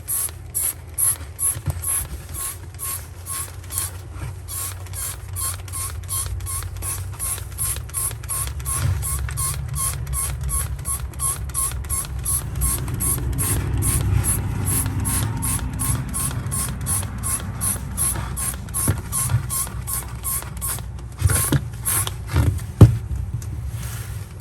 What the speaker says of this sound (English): I always spray the labels to get the mix off of them so you can actually read them.